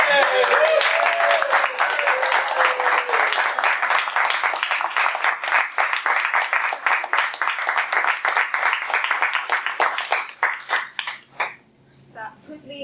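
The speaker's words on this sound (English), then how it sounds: "We clap for her. We clap for Karen." A small Toastmasters club audience claps for Karen, a dense burst of many hands applauding that thins to a few scattered claps near the end, close and lively, with cheering voices mixed in.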